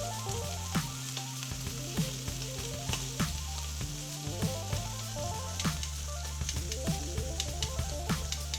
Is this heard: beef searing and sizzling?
yes